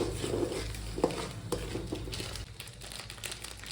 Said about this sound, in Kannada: ಹುಳಿ, ಜೀರಾ ರೈಸ್ಗೆ ಉಪ್ಪು ಹುಳಿ ಹಿಂಡಿದ ಮೇಲೆ ಹಾಕಿದ ಮೇಲೆ ಮಿಕ್ಸ್ ಮಾಡಿ.